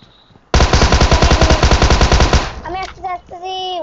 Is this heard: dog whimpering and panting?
no